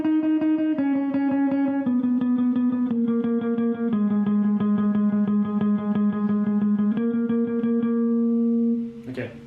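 Electric guitar on a clean tone plays an intro riff, a steady run of evenly picked notes stepping down a few pitches, close and continuous, ending with a brief noisy scrape.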